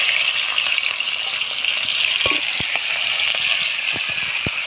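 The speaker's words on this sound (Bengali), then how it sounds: "চিংড়িতে ভালো করে ভেজে নেবো।" Prawns frying in hot white oil in a wok, a loud continuous sizzle with occasional clicks and scrapes from a spatula stirring them, close up and steady throughout.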